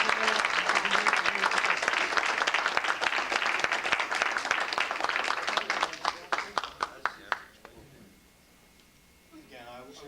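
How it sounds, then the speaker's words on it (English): Hearty applause from an audience at a 1988 Norristown Exchange Club awards evening, dense sustained clapping that thins into scattered claps and fades to near quiet. "Let's give a great round of applause to our student advisors"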